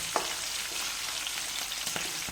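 Garlic, green chili and curry leaves frying in oil for an amla pickle: a steady, bright crackling sizzle close by, with a few soft stirring taps and no talking.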